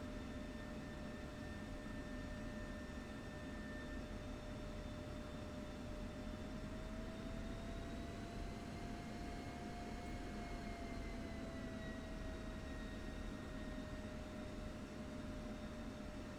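Simulated F-16 jet engine running steadily in the DCS flight simulator, a constant loud turbine roar with a faint whine that rises slightly in pitch midway, then settles, with no talk.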